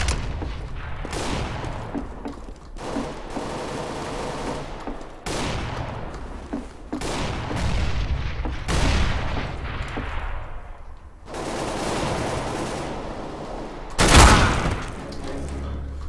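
Counter-Strike: Global Offensive match with a thrown grenade and bursts of gunfire. Rapid weapon volleys repeat throughout and end in one loud, sharp blast near the end.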